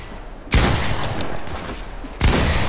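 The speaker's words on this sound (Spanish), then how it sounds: "pego el disparo a la cabeza" Gunfire in the video game Fortnite: two sharp, loud blasts about a second and a half apart, each followed by a short ringing tail over quiet game ambience.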